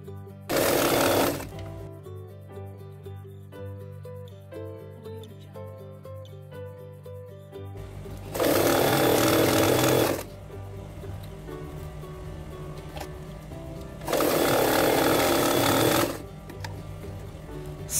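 A sewing machine stitches a homemade fabric storage bag in three loud bursts of rapid mechanical whirring, separated by quieter pauses with faint background hum.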